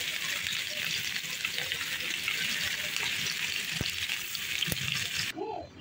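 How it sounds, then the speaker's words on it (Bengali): Dal is tempered with dried bay leaf, chopped onion and garlic in hot oil, giving a steady, continuous sizzling hiss close by that cuts off abruptly near the end. "কিছু পেঁয়াজ কুচি আর কিছু রসুন কুচি দিয়ে বাগার দেবো"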